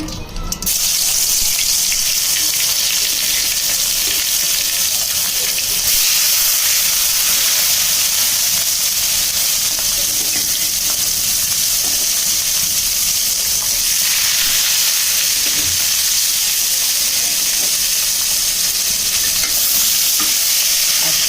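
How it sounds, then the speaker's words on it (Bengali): Koi fish fry in hot oil in a wok, producing a loud, dense, continuous sizzle and hiss up close that holds steady for the whole stretch after a brief opening burst, with no voices. "এখন মাছগুলোকে একটা একটা করে দিয়ে সুন্দর করে ভেজে নিব"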